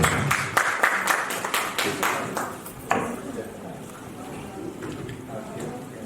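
An auditorium audience at a literary award ceremony claps to welcome a speaker, a burst of applause that fades over the first few seconds into quieter room noise.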